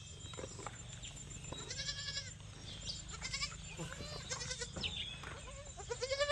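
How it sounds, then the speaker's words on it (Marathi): Goats on a farm feed on dry groundnut vine fodder, giving soft rustling and chewing sounds beneath frequent nearby bleats from several animals throughout. "आपली शेळ्या सुका चारा खात आहे, भुईमुगाचा वेलाचा पाला"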